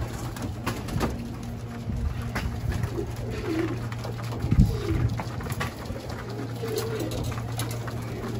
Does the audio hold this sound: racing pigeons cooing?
yes